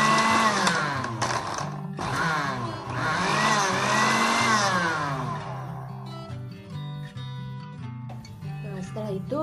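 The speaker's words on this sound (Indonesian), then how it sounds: "Kalau saya blender." An electric blender grinds spice paste for lemper ayam in a home kitchen, its motor whirring loudly and shifting pitch as the mixture churns, then the whir winds down toward the end.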